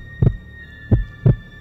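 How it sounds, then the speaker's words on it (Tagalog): Three deep heartbeat thumps, a paired beat followed by a quicker pair, sound alone over a faint steady hum, close and loud. "Naririnig ko ang tibok ng puso ko na parang tambol"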